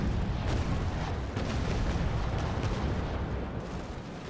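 A frigate's cannon broadside fires in the naval battle game Naval Action as a dense, loud rumble of overlapping booms. The blasts roll continuously for several seconds and fade slightly at the end.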